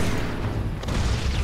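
A dense, roaring explosion rumbles on steadily in the space-combat video game Wings of Saint Nazaire, loud and continuous, with deep booming low end throughout.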